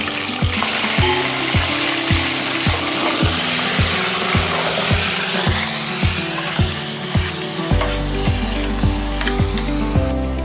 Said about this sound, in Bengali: এক কেজি মুরগির মাংস লইলাম এই মুরগির মাংস কি এটা ভাজা করে দিই